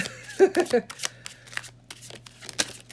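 A deck of oracle cards is riffled and shuffled close by in quick, papery bursts, with a voice talking over it throughout.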